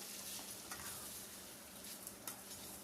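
Curd rice is stirred in a pan with a faint, steady sizzle and soft scraping of a spoon, quiet and close, with a couple of light clicks.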